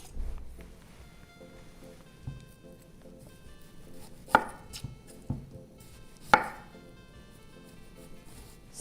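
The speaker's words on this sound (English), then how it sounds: "I will be chopping the onions." Knife chopping onions on a board for an Ethiopian dish, heard as a few sharp, separate cuts spaced out over a quiet kitchen background, with no talking.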